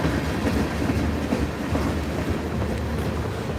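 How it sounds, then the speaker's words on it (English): A CSX freight train led by an AC44C6M locomotive rolls past seen from high on a cliff, producing a steady, loud broadband rumble with faint clickety-clack of railcars throughout, with no voices. "An AC 44C 6M locomotive"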